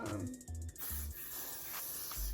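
Got2b glue spray hisses from an aerosol can onto a lace front wig in short bursts, close and fairly soft, with a few low knocks around the sprays.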